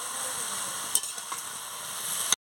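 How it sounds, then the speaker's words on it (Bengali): Vegetables with turmeric and salt frying in a pan for a spinach, taro and shrimp dish, a soft continuous sizzle with a sharp clink of a utensil and a few light stirring knocks, fairly quiet and close. "আমি হলুদ দিয়ে দিচ্ছি, নুন দিয়ে ভালো করে আনাজটাকে আমি ভেজে নিচ্ছি।"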